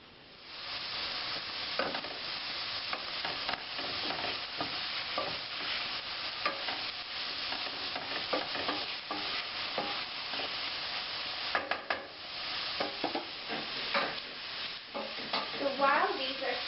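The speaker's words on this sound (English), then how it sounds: "While these are sauteing, I can also toast my walnuts." Onions and minced garlic sauteing over high heat in a pan, giving a steady, dense sizzle throughout with occasional stirring scrapes and clicks, close and continuous with no talking.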